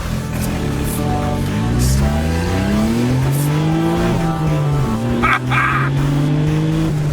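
A small Kei car chasing a Mitsubishi Evo on city streets in Japan, engines revving and accelerating through climbing gear pulls, loud and close, with a brief squeal or whoosh near the end and no talking.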